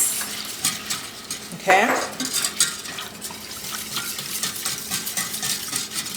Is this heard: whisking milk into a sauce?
yes